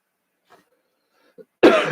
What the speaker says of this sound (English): this cough is just going to kill me here